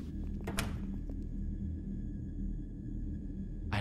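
A door opens in the horror video game Foresake: a short creak and thunk early on, followed by a low ambient drone and faint tones, with another brief knock at the close.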